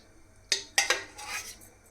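A metal kadai is set down on a stove before cooking an omelette, giving a few sharp metallic clanks close by, followed by a brief scraping rattle with no voice.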